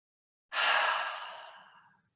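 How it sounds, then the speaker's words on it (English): A single deep open-mouth exhale during a yoga breathing practice, a soft breathy whoosh that starts abruptly after a pause and fades slowly, close and alone. "take a few more of those open belly inhales and open mouth exhales"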